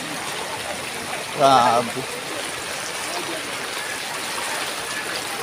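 Floodwater rushes through a flooded market area, a steady broadband wash of water with a man briefly exclaiming over it.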